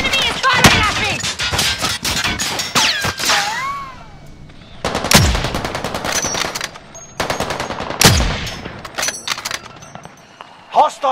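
Call of Duty: Warzone gunfire: loud automatic bursts and single shots, close and punchy, with game voice lines and sound effects between the volleys.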